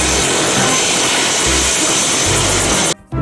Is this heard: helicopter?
yes